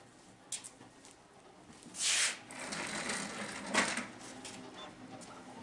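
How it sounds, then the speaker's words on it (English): A 3D printer printing a water pump, giving irregular mechanical whirs, scrapes and brief clicks, with louder bursts of motion that swell and fade over a quiet background hum. "We are printing out another water pump"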